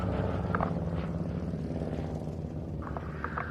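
A Curtiss P-36 (Model 75) monoplane fighter drones steadily overhead at an airshow flying evening, a continuous propeller-engine hum with low harmonic rumble, moderately distant and alone.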